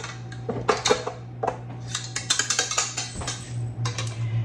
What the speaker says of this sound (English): Take the bowl down and clean off the mixer.